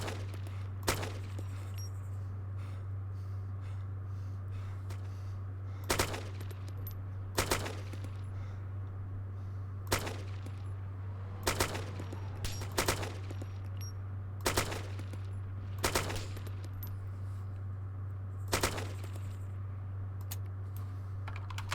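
Bursts of RPK machine gun fire in the video game ARMA 2, short sharp shots spaced irregularly over a steady low hum, fairly faint and without talk.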